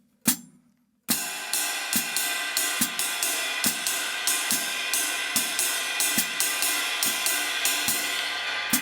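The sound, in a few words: drum kit playing full mozambique ride cymbal rhythm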